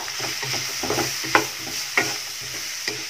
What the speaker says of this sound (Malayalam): ഇതൊന്ന് ജസ്റ്റ് മിക്സ് ചെയ്ത് കൊടുക്കുക